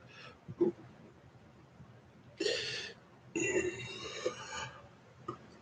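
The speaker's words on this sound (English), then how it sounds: "That was a burp." A few quiet burps, one short and two longer, drawn-out ones, close by in an otherwise hushed room.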